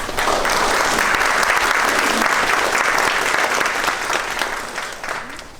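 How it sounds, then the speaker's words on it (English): An audience at the First Annual Patriot's Gala in Lincoln County gives a full round of applause, loud sustained clapping that holds steady and then tapers off near the end. "Please give them a round of applause."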